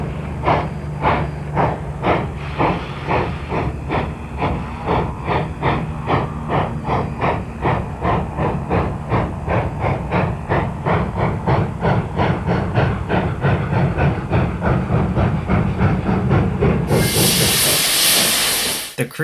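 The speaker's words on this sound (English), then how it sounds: "The train rolls into Yreka and prepares to spot the tank car at Standard Oil." Yreka Western Railroad train rolling into Yreka to spot a tank car, its wheels clicking in a steady, loud rhythm over the rails, ending in a sharp burst of hissing steam.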